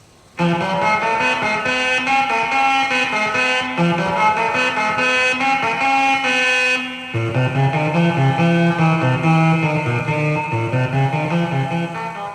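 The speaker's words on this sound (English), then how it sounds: "that was still the stylophone pocket-sized electronic organ powered by that tiny little PP3 battery" A battery-powered pocket stylophone played through an external amplifier, a loud buzzy electronic organ tone holding sustained notes, then shifting to a lower, fuller phrase.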